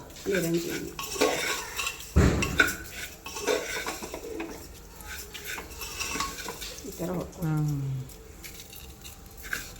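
Rice fried with spices, garlic, mustard seeds and cumin seasoning is stirred in a pan, and a spoon scrapes and clatters against the metal in irregular bursts while a voice speaks at times.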